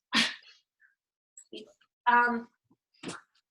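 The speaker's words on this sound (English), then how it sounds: "the dog is whining" A dog whines close by in a few short, separated bursts, each a brief high whimper with pauses of silence between.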